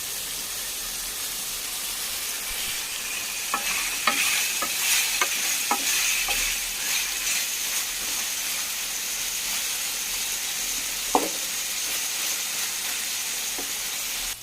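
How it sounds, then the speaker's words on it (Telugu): Onions frying in a pan for egg karam pulusu, a steady loud sizzle with a few scraping stirs and light clinks of the spoon against the pan. "ఆనియన్స్ వేసి వేయించుకోవాలి. ఇలా అన్నీ వేసి మంచిగా మగ్గేంత వరకు వేయించుకోవాలి"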